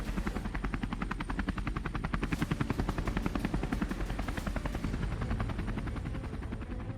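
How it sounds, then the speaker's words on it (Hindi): Apache attack helicopters circle overhead, a steady, rapid rotor thump beating continuously, fairly loud and close, with no voices. "अपाचे अटैक हेलीकॉप्टर आसमान में चक्कर काट रहे हैं"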